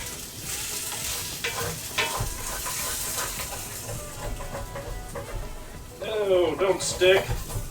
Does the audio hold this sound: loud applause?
no